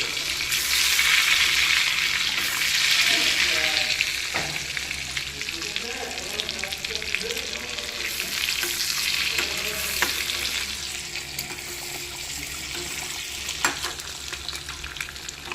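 Eggs fry in a pan of chicken curry with a loud, steady sizzle and crackle. Occasional stirring scrapes and clinks sound close by, and no voices are heard.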